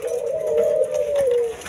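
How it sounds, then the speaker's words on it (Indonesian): A caged spotted dove, kept in breeding pairs, gives one long, soft, drawn-out coo that sustains steadily and close over faint background hiss. "dua pasang yang ini adalah burung tekukur"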